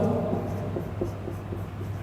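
Chalk or marker scratching on a classroom board in short, uneven strokes, close and moderately loud over a low room hum, with no talking during the writing.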